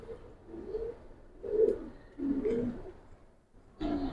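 Giribaz pigeons in a loft give soft, low coos in four separate bursts, close by and fairly quiet, with short pauses between them.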